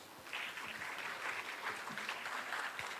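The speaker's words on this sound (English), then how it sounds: "Please round of clap" Audience at a pharmacology conference session applauding, a continuous mid-distance crowd clapping lasting a few seconds after a brief quiet lead-in, with faint voices under it.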